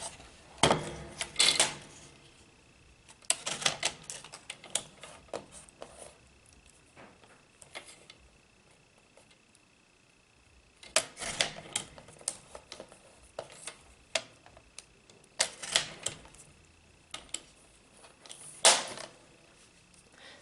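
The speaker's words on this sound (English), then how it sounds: "I'm just going to bring my paper cutter in and trim this out so it's nice" A paper cutter trims card stock in a craft setting, giving sharp, scattered slicing and clacking bursts with quiet gaps between them, close and fairly soft.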